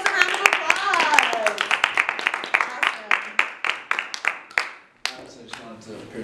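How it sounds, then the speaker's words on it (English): Audience applause at an improv show, a burst of sharp, separate claps from a modest group that thins out and stops near the end, with voices speaking over it. "Give yourselves a round of applause."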